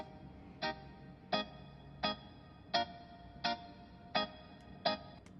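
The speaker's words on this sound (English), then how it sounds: "the classical reggae guitar." Seven short, crisp guitar chord stabs on the offbeat in a steady reggae skank rhythm, quiet and alone with faint hiss between.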